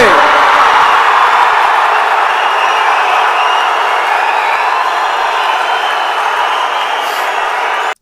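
A large crowd at a Tamil political stage event stands and claps loudly and continuously when Stalin's name is announced, a dense, steady roar of applause with cheering that holds at full strength for several seconds before cutting off.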